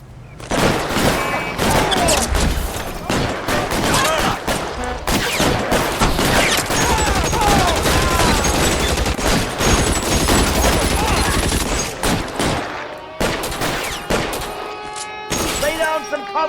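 Sustained gunfire in the video game L.A. Noire during a shootout with security men, dense rapid shots pouring out loud and nearly continuously, thinning into scattered cracks near the end.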